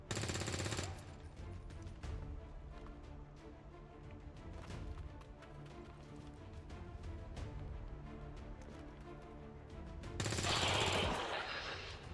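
Bursts of gunfire in the video game XCOM, with dense crackling shots opening and closing a stretch of steady droning game music and clatter in between.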